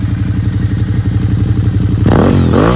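A Suzuki SV650 V-twin motorcycle engine idles with a loud, lumpy, rhythmic thump, then is blipped into a sharp rev that rises and falls, close up and without talk.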